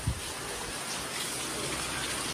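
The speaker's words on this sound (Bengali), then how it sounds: "পুরো ঝমঝমিয়ে বৃষ্টি পড়ছে বাইরে" Heavy rain pouring down outside a home in a waterlogged neighbourhood, a dense steady hiss of falling water that fills the whole moment before cutting off abruptly at the end.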